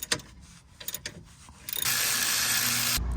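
A ratchet clicks in quick bursts backing out 10 mm bolts from a metal pan under a BMW G30 540iX, then a loud steady whirring hiss takes over near the end.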